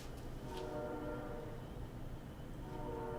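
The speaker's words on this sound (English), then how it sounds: "I hear a train." A train rumbles steadily nearby with a low continuous roar and faint horn-like tones, heard alone without any voices.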